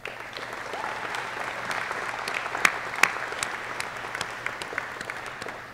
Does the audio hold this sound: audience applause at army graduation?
yes